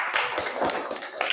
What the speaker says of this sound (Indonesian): Aplaus untuk Mas Sobri.